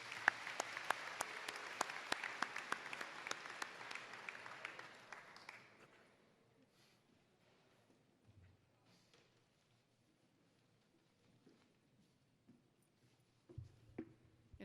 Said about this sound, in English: And another round of applause for Dr. Smoot.